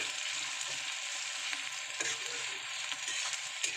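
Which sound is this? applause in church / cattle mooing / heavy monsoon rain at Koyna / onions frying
onions frying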